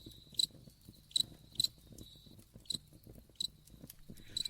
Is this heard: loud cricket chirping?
yes